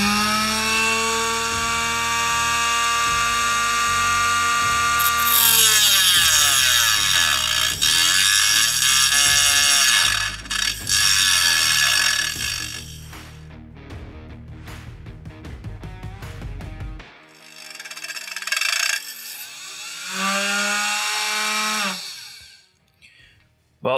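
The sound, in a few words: Dremel in a vise cutting aluminum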